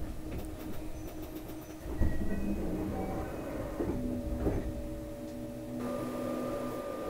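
A KiHa 189 series diesel limited express train pulls into Wadayama station, heard from inside the carriage as a rumbling rolling drone with shifting engine and brake tones and a sudden clunk partway, steady and fairly close, with no talk.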